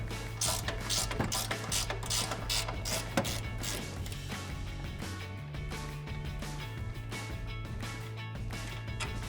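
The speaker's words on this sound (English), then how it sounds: "Using your socket or wrench, go ahead and remove it" A ratchet clicks in steady rapid bursts as a socket wrench removes bolts from a Toyota Tacoma suspension during a lift kit install, with a low motor hum underneath.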